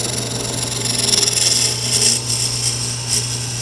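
A roughing gouge cuts a spinning wood blank on a lathe for a toothpick dispenser, a steady hum with a rough, rubbing hiss as the tool moves along the piece, close and continuous with no talk.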